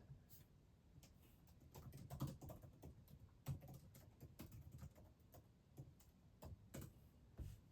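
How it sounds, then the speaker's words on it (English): Steady typing on a computer keyboard, with quiet, irregular key clicks that come in quick runs and brief pauses, close by and soft. "Just typing."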